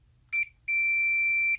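A multimeter on continuity test beeps as its probe leads touch: a short tone, a brief gap, then one long steady beep, loud and clean over a faint low hum.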